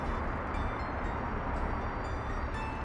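A train rumbles along the tracks in the city builder Workers & Resources: Soviet Republic, a steady low rolling drone heard close and alone, with no talk over it.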